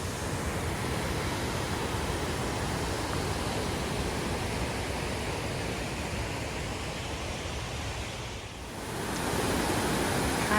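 A wild rushing creek with a series of small waterfalls along a walking path outside Ponte de Lima, Portugal: a loud, continuous broadband roar of churning water, heard close, with a brief dip near the end.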